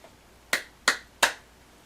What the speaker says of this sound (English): Now you clap 3 times.